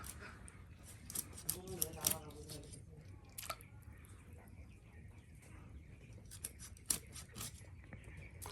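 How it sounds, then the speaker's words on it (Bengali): Chicken meat being cut with scissors at a clay stove on a rainy day, a run of crisp snips and squishy cuts close by, with a louder cluster of clips near the start and scattered snips later, over faint rain and birds. "প্রথমে মুরগি থেকে মাংস কেটে নেওয়া হচ্ছে"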